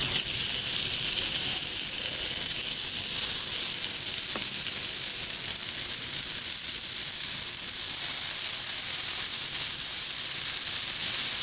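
Pepper bacon smash burgers frying on a Blackstone griddle give off a steady, loud, close sizzle and hiss that runs unbroken throughout, with no voices and only a faint click partway through.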